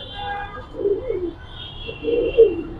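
Giribaz pigeon cooing close by as it is held and shown, two soft, low throaty coos over a quiet background with faint high tones.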